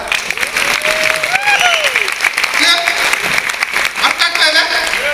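An audience at a network marketing talk claps in a burst of applause, and a voice talks over it throughout.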